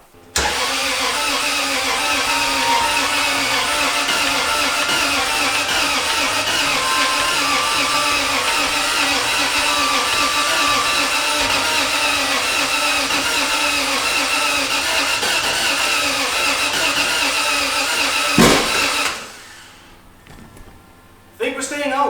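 Nissan S13 fitted with a 1JZ engine, a steady loud engine drone running close for most of the stretch, then a sharp knock and a sudden drop to near quiet before it picks up again.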